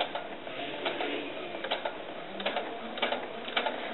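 A home sewing machine stitching a doll's dress fabric with a hemmer foot, a steady rapid mechanical clatter with light ticking accents, running alone at moderate loudness.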